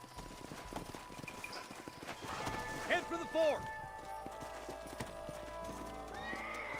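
Horses in the Red Dead Redemption video game trot with a steady clip-clop of hooves, and one whinnies clearly midway through. A voice talks over the hoofbeats.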